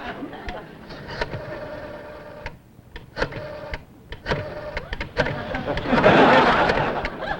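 Rotary telephone dial being spun and released several times in a row, each whirring return followed by a short pause, with a louder rattling burst near the end.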